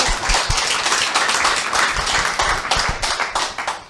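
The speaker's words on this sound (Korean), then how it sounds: "박수 한번 드릴까요?" An audience at a side-business success seminar breaks into sustained applause, a dense, steady wash of clapping with a few sharper individual claps standing out, lasting the whole stretch without any speech over it.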